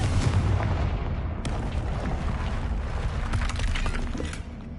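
A Confringo spell explodes in Hogwarts Legacy with a loud, booming blast, followed by rough crackling and rumbling debris that slowly fades away.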